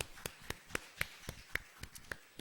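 A Korean church congregation at Sunday worship claps in a slow, even rhythm, with a series of distinct hand claps spaced about a quarter second apart, faint and somewhat distant.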